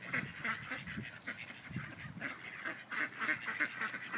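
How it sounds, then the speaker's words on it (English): Geese honk repeatedly at a moderate distance, overlapping nasal calls in uneven bursts over a quiet outdoor background. "These aren't ducks. These are a rare bird. This is a goose."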